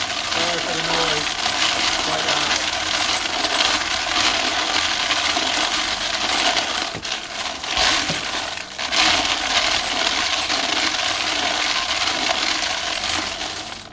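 Loud, continuous clattering and jingling of .308 brass cases rattling in a sifter as walnut media is shaken out, close and unbroken, with a brief dip midway.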